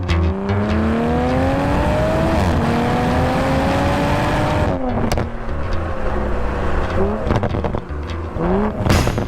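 A 2020 Toyota Supra A90 engine drones and rises through revs while driving, with a brief break in the pull near the middle, followed by more shifting and acceleration, loud and continuous.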